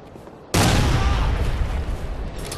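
Frag grenade blast in the video game Ghost Recon Future Soldier multiplayer: a sudden loud boom bursts in after a quiet moment and its rumbling roar lingers for the rest of the clip.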